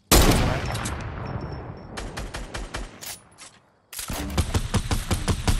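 Rapid bursts of gunfire in the Squad military shooter game, loud and close, with a volley of repeated shots, a short lull, then another sharp string of cracks.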